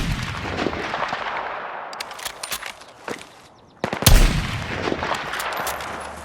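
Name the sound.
gunfire and explosions in Battlefield 6 video game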